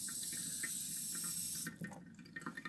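Water trickles and splashes from a miniature wall outlet toilet, first a steady running flow, then breaking into uneven drips and splatters, quiet and close.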